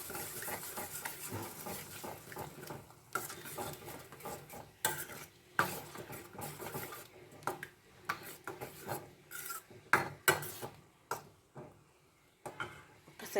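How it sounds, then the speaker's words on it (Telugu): Eggs are beaten and mixed in a bowl for egg fried rice, with quick irregular clicks and scrapes of a utensil against the dish, close and fairly quiet, with short pauses between strokes. "సో ఇలా బీట్ చేసేసి మిక్సప్ చేసేసుకోండి"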